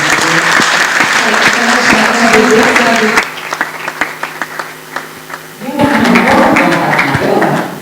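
An audience applauds a pastor at a church gathering: loud, dense clapping fills the opening seconds, fades to scattered claps over quieter tones, then swells back to full applause at the end.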